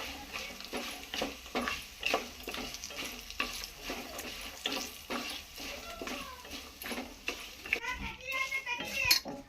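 Puliyogare mix is stirred into hot tempering in a pan, with rhythmic, evenly spaced scraping strokes over a faint sizzle, while children's voices chatter in the background.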